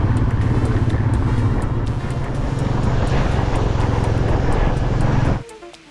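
Steady loud motorcycle engine drone with wind rush while riding through hilly Kannur countryside on a road trip, constant until it cuts off abruptly near the end.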